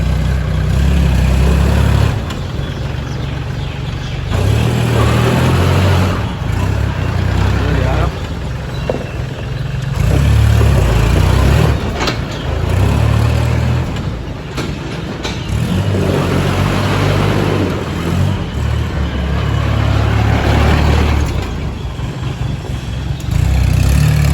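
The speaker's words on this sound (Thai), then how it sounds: "เรามา ฟังเสียงเครื่องและดูการขับเคลื่อนของรถคันนี้ครับผม" A Kubota L3608SP tractor's diesel engine runs steadily and loudly with a deep, rumbling low end, its level rising and falling slightly as it revs; someone talks over it.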